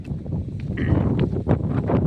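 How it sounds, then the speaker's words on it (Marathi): Strong wind buffets the microphone on a hilltop at Suryamal, a steady, loud low rumble with gusts that swell and ease, and no voices. "फार वारा आहे ना"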